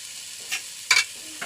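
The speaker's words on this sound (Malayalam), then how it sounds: "അത് വറുത്തെടുത്ത എണ്ണയിൽ തന്നെ ചിക്കൻ വയ്ക്കാനുള്ള സാധനങ്ങൾ മൊരിക്കണം" Onions and masala frying in leftover oil for a Thalassery dum biryani make a low hiss, with a couple of quick stirring scrapes and a brief louder sizzle burst, up close.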